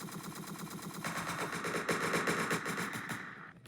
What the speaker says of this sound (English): keep firing more bullets